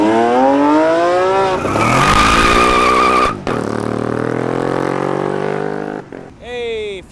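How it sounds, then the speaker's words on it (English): A Lamborghini SVJ supercar pulls away from an exotic car meet, its engine loud and close, rising through revs and gear changes with a sharp rev at the end, while people talk nearby. "Hey, Stewart, an SVJ is leaving."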